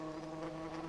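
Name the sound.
wasp buzzing in a puppet theatre show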